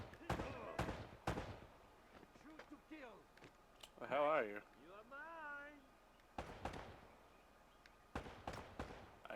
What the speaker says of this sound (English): I hear gunshots and I see grenades being tossed.